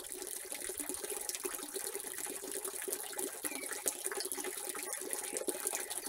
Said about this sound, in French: Là, je mouille le mur et les plaquettes d'angle pour parement mural pour une meilleure adhésion.